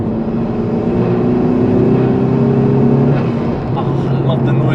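Honda Civic Type-R FK2 engine lifting off the accelerator: a loud, steady droning note held for a few seconds, then dropping away into crackly, burbling off-throttle noise, close up inside the car.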